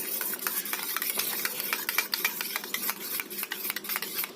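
A spoon stirs chicken biryani spices with a couple of drops of sweet attar, giving a quick run of rough scraping strokes in an even rhythm, close and moderately loud with no speech.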